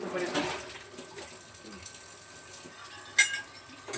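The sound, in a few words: washing a plate under running tap water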